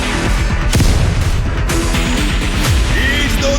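Grenade explosion and gunfire in a World War II video game: heavy booms and sharp bursts crash over a loud continuous battle din, with a couple of distinct blasts standing out.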